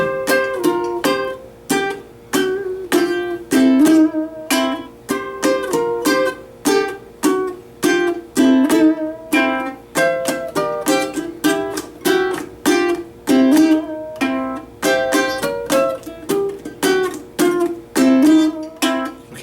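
Guitar chords strummed with a finger brace strum, a steady run of crisp, evenly spaced strokes that ring out loud and close for the whole stretch, with no voice over them.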